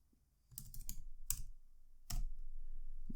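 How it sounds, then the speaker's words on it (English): Several separate clicks come from a computer keyboard being typed on, in a few quick taps and then a louder pair, close by in a quiet room. "So let's type that in."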